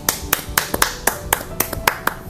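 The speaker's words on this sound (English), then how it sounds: "I want to give you a round of applause" A short round of applause: about a dozen crisp, close hand claps in a loose, uneven rhythm, with no voices over them.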